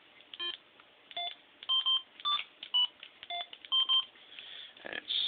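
A Yaesu VX-8R handheld radio sends a run of DTMF keypad tones, a dozen or so short beeps in an irregular rhythm over faint background hiss, with no one speaking.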